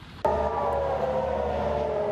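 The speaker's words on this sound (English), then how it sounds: "As air raid sirens sound," Air raid sirens wail over central Tel Aviv during an Iranian missile attack, starting abruptly and holding a loud, steady rising tone with layered harmonics throughout.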